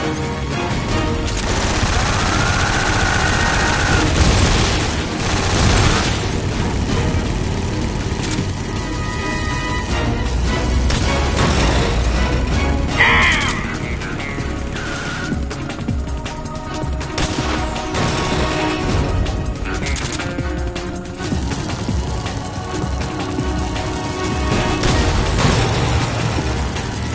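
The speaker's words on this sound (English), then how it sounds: "Here come the missiles!" Missile attack explosions in Metal Gear Solid 3: dense, continuous blasts and crashing impacts with rapid gunfire-like bursts, loud throughout and layered over game music.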